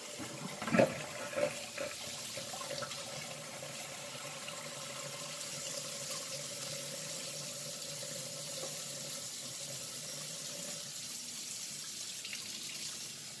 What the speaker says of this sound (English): put a little bit more hot water in there just to kind of fill up the rest of the tub.